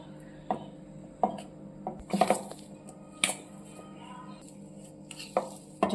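Soft clinks and scrapes of a spoon in a bowl as gulab jamun dough is gently mixed with milk, a few sharp taps spaced irregularly over quiet background, close and fairly faint.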